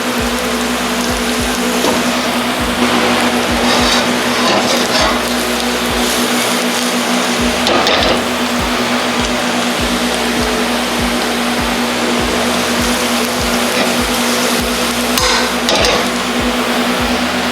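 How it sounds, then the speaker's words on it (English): Ginger sautéing in a hot pan for a Mongolian beef stir-fry, a steady, loud, hissing sizzle that runs unbroken from start to finish with a low constant hum beneath and no talking. "Ginger. And let that saute real quick."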